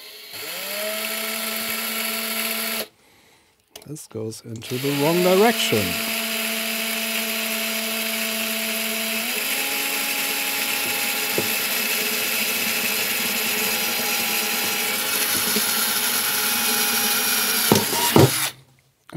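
A power drill bores into a metal cash box, whining steadily, its motor pitch shifting as it bites in, with a brief pause and a short spoken remark partway through.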